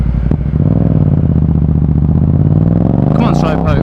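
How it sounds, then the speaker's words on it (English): A Yamaha MT-07 motorcycle engine drones loudly up close with clattering exhaust and a sharp pop near the start, while someone talks over it toward the end. "Oh, I love this thing's pops and bangs though."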